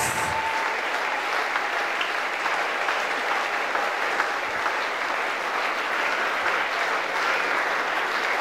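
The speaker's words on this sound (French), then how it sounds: "Clap for the Lord Jesus." A church congregation at a revival service claps steadily and continuously for Jesus, a dense, even wash of applause from many hands throughout with no voices standing out.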